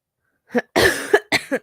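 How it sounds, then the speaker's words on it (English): A short burst of three or four close, harsh coughs in quick succession, the middle one longest. "Sometimes when I cough, my ribs hurt."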